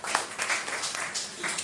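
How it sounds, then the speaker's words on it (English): Clapping from a business community audience at an annual gathering in Busia District, a brief dense patter of many hands at moderate level, continuous for under two seconds. "So again, clap for yourselves."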